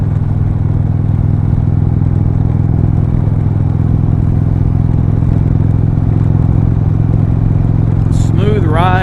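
A 2021 Indian Roadmaster motorcycle cruising with a steady, loud low engine drone and wind rush throughout, with a brief higher squeal near the end.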